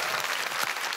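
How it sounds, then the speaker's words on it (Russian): A studio audience at a comedy show bursts into applause, a brief, loud, dense wash of clapping heard on its own. "Бурные аплодисменты!"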